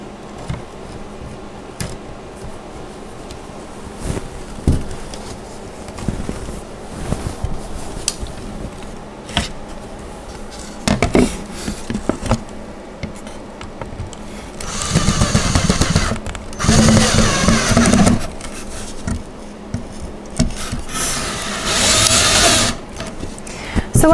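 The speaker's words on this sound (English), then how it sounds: "And screwing this into place like so." A power screwdriver drives screws into a white wooden doll cradle, with whirring bursts and a brief stretch of sustained driving roughly midway, then repeated spurts near the end amid faint handling clicks.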